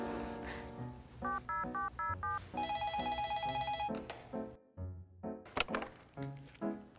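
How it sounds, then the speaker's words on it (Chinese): In an animated scene, a telephone rings while a call is being placed, giving a run of short repeated electronic ring tones and beeps, fairly clear, with some knocks and shifting background sounds around them. "我直接打电话给阿志"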